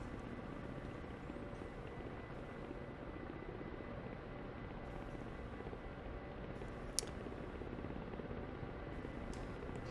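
A Ka-50 helicopter in the DCS flight simulator holds a constant rotor and turbine roar, dense and unbroken for the whole stretch, with no voices over it.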